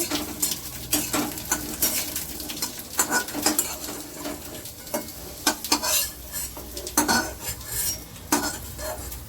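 Fish frying in a pan for a fish curry with cauliflower and potato: an irregular run of spatula scrapes and metal clatter over a light background sizzle, close by and without talking.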